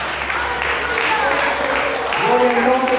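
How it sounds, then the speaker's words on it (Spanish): A church congregation gives a short burst of applause, steady and close, with a voice speaking over the clapping. "Alguien puede dar un fuerte aplauso a Rey de Reyes."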